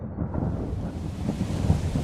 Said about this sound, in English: Ah, I love a good storm.